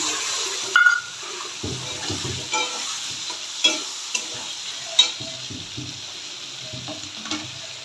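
Cumin-ginger paste is stirred and fried in a pan for a thin fish curry, giving a soft background sizzle broken by several distinct spatula scrapes and knocks against the pan.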